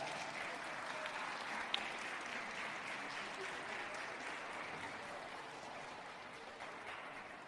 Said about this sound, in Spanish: Vamos a darle un aplauso a Abraham y a Isaac.